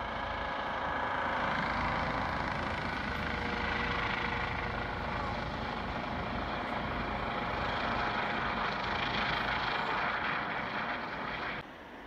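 A helicopter flies during a ski rescue on a steep slope where it cannot land, carrying the skier suspended below it; a loud, steady rotor and engine roar runs continuously throughout.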